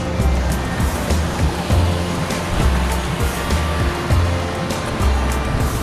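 Cold water flowing out of Tinipak Cave in Tanay, Rizal rushes beside a bridge in a steady, loud wash of broadband noise with a low rhythmic churn and no talking.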